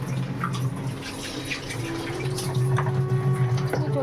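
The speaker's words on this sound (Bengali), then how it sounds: "এখন পরিষ্কার করে ধুচ্ছে ধুয়ে বোতল ভরছে" Water bottles washed clean with soap and then filled at a tap: continuous running water with splashing and gurgling, close and fairly loud, with occasional light knocks of the bottles.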